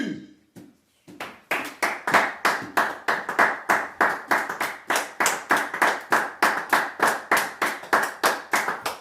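A church congregation claps in unison to acclaim Jesus at an Easter service, a few scattered claps giving way to steady, loud rhythmic clapping that continues throughout.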